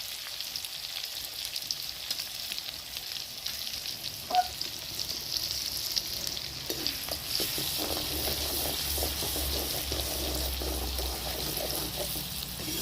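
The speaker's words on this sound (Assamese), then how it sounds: "এইখিনি ভাজ খোৱালৈকে অকণমান দেৰি এনেকৈ ভাজি ল'ম।" Oil frying with ginger-garlic paste, turmeric and salt in a pan: a soft continuous sizzle that grows busier and crackles more in the second half, with a single brief clink near the middle and no talking.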